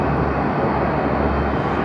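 At Haneda Airport, a large jet airliner's engine roars in a steady, loud, broadband rumble and hiss from a distance, with no speech over it.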